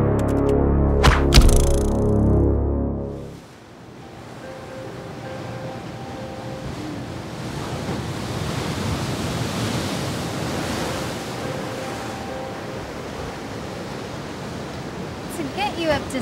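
Ocean surf at the Cocoa Beach Pier in Florida, a broad steady wash of waves with wind, continuous and fairly distant, following a few seconds of music at the start.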